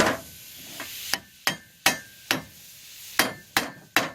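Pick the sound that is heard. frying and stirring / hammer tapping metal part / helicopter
hammer tapping metal part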